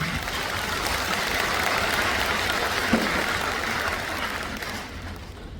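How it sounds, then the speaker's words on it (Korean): An audience in a large auditorium at a Liberation Day commemoration in Busan claps steadily, dense even applause welcoming performers, fading slightly at the end. "큰 박수로 환영해 주시기 바랍니다."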